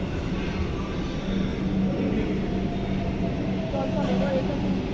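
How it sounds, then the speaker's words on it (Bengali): A metro train pulls into a station with a steady, loud rumble and hiss that fills the whole stretch, while faint voices from the platform carry underneath. "হ্যাঁ, মেট্রো আসছে।"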